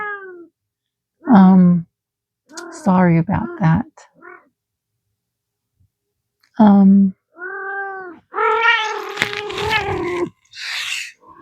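A house cat meows several times at close range, loud drawn-out calls of varying length between pauses, while someone speaks briefly in between.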